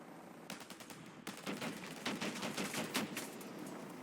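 A rapid, sustained burst of machine gun fire from an OH-58D helicopter in a video game, rattling steadily and fairly loud after a brief opening volley, with no speech.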